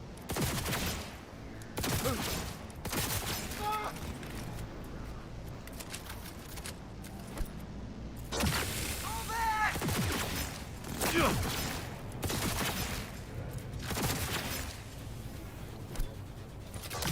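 Gunfire during a firefight in Cyberpunk 2077. Repeated sharp volleys of shots crack at irregular intervals across the whole stretch, loud and close, over a steady game background with little talk.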